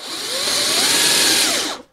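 Power drill boring into wood, a loud close whine that holds steady and shifts in pitch as the bit bites, then cuts off abruptly.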